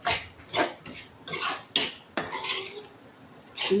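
Spoon or spatula scraping and clinking against a pan while semolina is stirred in for halwa, several uneven metallic strokes up close with short pauses between them.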